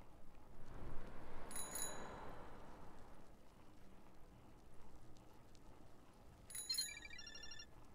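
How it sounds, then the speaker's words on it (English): A bell rings in the karaoke video game The Karaoke, two bright metallic trills a few seconds apart, each a quick cluster of rings over quiet background noise. "I like the bell too much."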